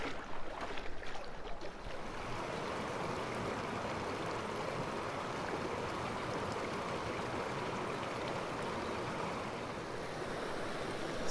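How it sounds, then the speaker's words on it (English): Flowing water of a canyon creek in Aravaipa Canyon, Arizona, as someone wades through it: a continuous broadband rush and splash, steady and close, with no voices. "Currently just slogging through the creek."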